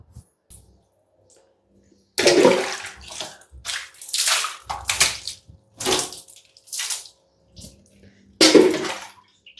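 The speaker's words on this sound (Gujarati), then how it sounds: "ચાલો હવે ધોઈ નાખીએ બધું।" Clothes are washed under running water at home, with bursts of pouring and splashing separated by short quiet gaps, heard close and fairly loud.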